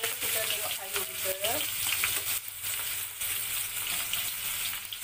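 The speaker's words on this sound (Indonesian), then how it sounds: "Bawang merah pun kita goreng." Shallots, garlic and chilies fry in a pan with a dense, steady sizzle, close up, and brief stirring scrapes break through.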